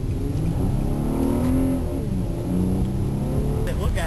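An Infiniti G35 engine revs and accelerates, its pitch climbing and falling, with a voice talking over the steady roar.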